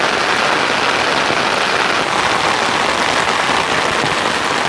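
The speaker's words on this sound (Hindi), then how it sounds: "भयंकर होगी तेज़ बारिश।" Heavy rain pours steadily on a hillside farm in the Pahadi hills, a dense, loud, unbroken hiss of drops on surfaces with no voices.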